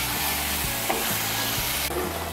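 Spice paste with chopped tomato sautés in a pan, giving a continuous dense sizzle with low rhythmic scraping as it is stirred, loud and close, with no talking.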